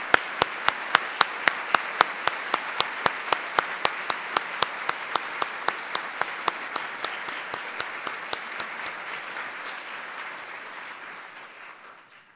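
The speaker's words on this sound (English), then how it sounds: "And let's give them a round of applause." Audience applauding two guests at a museum event on Syria, with a dense, even clapping that holds steady then gradually fades out, some sharp individual claps standing out up close.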